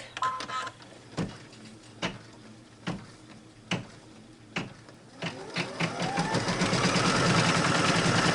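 An embroidery machine stitching a quilting design gives evenly spaced mechanical thumps about once a second, then speeds into a steady, rapid chatter of stitching that grows louder toward the end.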